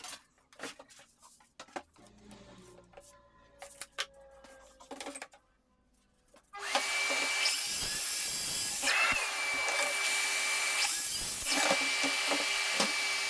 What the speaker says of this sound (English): you can see I've got a sheet of MDF on here, just using my track saw and my little rail square there